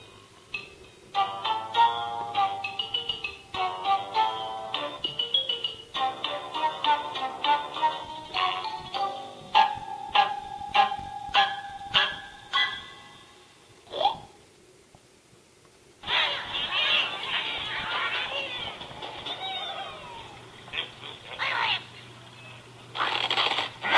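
Angry Birds game audio plays quietly from a Huawei S7 tablet's speaker: short chirpy tones, plucky musical blips and bursts of clatter in an irregular stream, with a pause before a noisier stretch.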